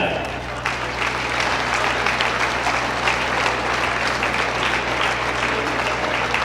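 A crowd at a Loyal vs Neillsville Cloverbelt East Conference girls basketball game gives the coaching staff loud, sustained applause, with dense clapping and cheering filling the gym throughout.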